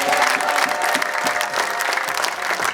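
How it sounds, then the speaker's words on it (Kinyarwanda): A church congregation applauds for God in a loud, continuous wash of clapping from many hands, with a faint crowd murmur underneath. "so ntabwo mwakomera Imana amashyi"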